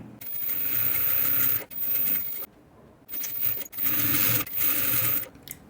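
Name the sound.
sewing machine stitching a fabric pencil case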